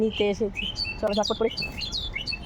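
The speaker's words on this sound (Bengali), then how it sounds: "কি সুন্দর পাখিগুলো ডাকে" Birds chirp and tweet in short, high, repeated calls close by outdoors, running steadily under a woman's speech.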